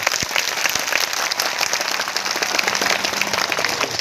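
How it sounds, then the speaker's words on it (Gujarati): A large audience at a public political speech claps loudly and continuously, a dense, even wash of applause throughout with no talking. "બધા જ માટે એકવાર આપણે જોરદાર તાળીઓ પાડીએ"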